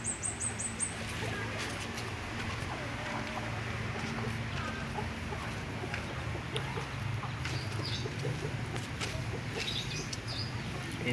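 Chickens cluck and chatter continuously inside a coop for Bangkok and village chicken breeds, several birds close by, with occasional higher squawks over a steady ambient hum.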